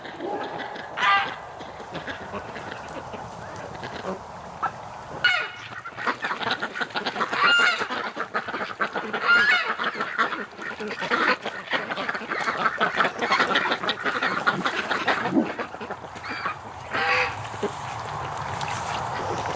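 Ducks quack and honk repeatedly at varying distances, some calls close and loud, over steady outdoor background noise.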